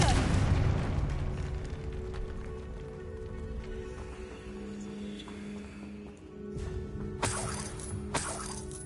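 Confringo blasting spell in Hogwarts Legacy, a booming fiery burst with a rumbling tail, followed by two sharper cracking pops later on over a low droning background.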